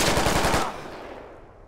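A close, loud machine-gun burst fires in the military shooter Squad: a rapid string of about ten shots over half a second, then a long fading echo with no voices.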